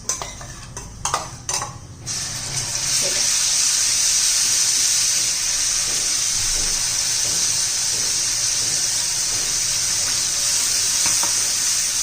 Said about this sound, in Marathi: आता आपण जे वाटण केलंय ना कांद्याचं ते घालून घेऊया